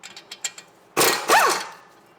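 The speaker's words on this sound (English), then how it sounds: "we're going to be pulling the caliper bolts off of the brackets rather than pulling the caliper from the bracket" A ratchet works the 18mm caliper bolts on a BMW E39 540i brake caliper. A short run of light ratcheting clicks gives way to a louder grinding burst with a brief creaking squeal, close up.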